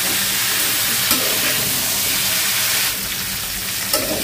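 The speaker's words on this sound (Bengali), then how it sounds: "ফুলকপিটা ভাজা হয়ে গেছে, আমি এখন এটা উঠাই নেব।" Cauliflower and potato fry in a pan with a loud, steady sizzle and hiss heard up close, broken by a few faint clinks of stirring.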